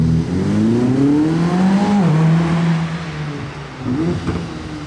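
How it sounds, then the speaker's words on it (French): Audi S8 V10 engine revving nearby on a street in Monaco, a strong smooth rise in pitch that drops away after a blip and then swells once more. "V10 dans cette Audi S8."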